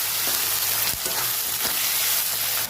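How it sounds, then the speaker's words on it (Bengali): Chopped onions with salt fry in hot oil, giving a steady close sizzle with a few soft scrapes of stirring. "পেঁয়াজ কুচি দিয়ে দেবো, লবণ দিয়ে দেবো। পেঁয়াজটা ভেজে নেবো ভালো করে।"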